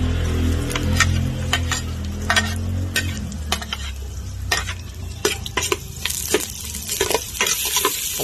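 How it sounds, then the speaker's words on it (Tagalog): Garlic sautéing in a pan for dinuguan, with a low sizzle under repeated close spoon scrapes and clinks against the pan, no one speaking. "Pagkagisa ng bawang"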